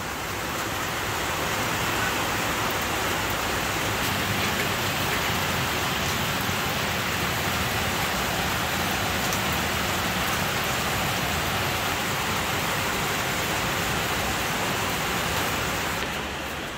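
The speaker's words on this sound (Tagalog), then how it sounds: "Ayan, lumakas na. Lakas na ng ulan." Heavy rain falls steadily for a long stretch, a dense, even broadband hiss that holds constant from start to finish with no voices over it.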